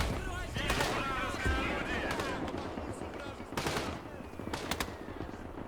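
Machine guns lay down covering fire in the Gates of Hell war game as Soviet mechanised infantry and BTR-60P carriers push on US positions, bursts of rattling gunfire and distant booms under continuous battlefield rumble, with someone talking over it.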